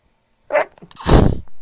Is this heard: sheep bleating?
no